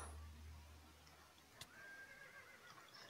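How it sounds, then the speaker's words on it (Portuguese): A horse neighs in a Minecraft-style video game, a short whinny rising briefly in the middle over a low background hum, with no talking. "É um cavalo."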